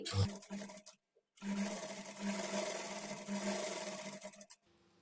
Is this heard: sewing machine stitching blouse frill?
yes